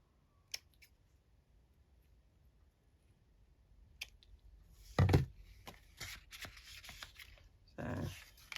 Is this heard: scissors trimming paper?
yes